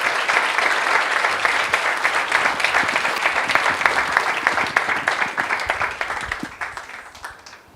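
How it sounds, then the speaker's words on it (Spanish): An audience at a panel discussion on press freedom claps in a dense, lively burst of applause that holds steady, then thins and fades toward the end. "Así que un aplauso para ustedes"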